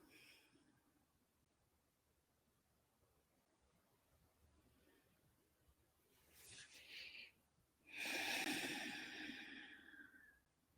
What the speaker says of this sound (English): Just breathing in